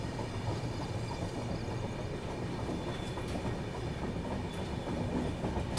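A Somnath Jabalpur Express rolls steadily into a railway station, with a continuous broadband rumble and wheel clatter throughout, loud and close, with no voices.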